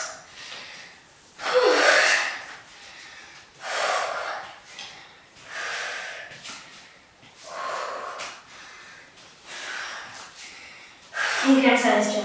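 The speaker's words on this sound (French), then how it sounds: "On calme sa respiration." Heavy, rhythmic breathing after an intense at-home HIIT bodyweight workout: close, forceful breaths and gasps rising and falling in about six waves, alone and loud, with strong rasping exhales.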